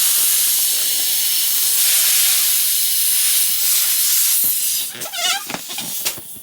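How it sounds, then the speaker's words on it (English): Helium hissing out of a cylinder through a leaky valve while filling a balloon, a loud, steady close rush that breaks off near the end into stuttering spurts and squeaks. "we're just pushing down on the valve so that the helium is expelled from the cylinder"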